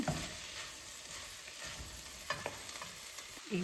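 Carrot mixed into raw banana chutney in a pan, soft sizzling frying noise with intermittent spoon scrapes and a couple of clunks, close and quiet, no speech.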